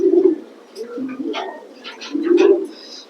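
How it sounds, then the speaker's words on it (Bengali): A pair of grizzle racing pigeons cooing close by, with low, soft, repeated rolling coos in two main phrases and some lighter chirps and rustles between them. "সরাসরি এখন কবুতরের মধ্যে চলে যাব ইনশাল্লাহ"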